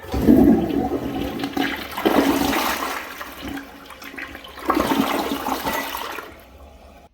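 A Gerber Avalanche 2nd Gen toilet flushes in a close, loud rush of water that surges in uneven waves and then tapers off as the bowl refills.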